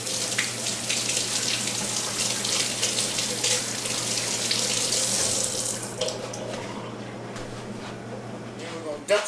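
A kitchen tap runs loudly while hands are washed after handling raw chicken tenders, a steady hissing gush that cuts off near the end and is followed by a few faint clinks.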